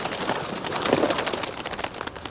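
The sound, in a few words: pigeons cooing in an animated kids movie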